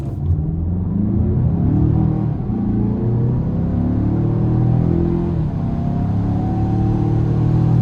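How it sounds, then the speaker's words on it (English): Inside a 2022 Mazda CX-5 Turbo crossover, the engine rumbles and climbs in pitch through the gears under a steady throttle run, a continuous close drone with no talking. "So a quick little acceleration run right here. A little bit of throttle."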